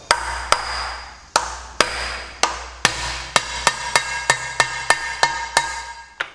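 Hammer blows drive an alloy punch against a bolt on a Chamberlain tractor front gearbox, sharp metallic strikes that start widely spaced and then quicken into a steady run of about a dozen close, loud hits.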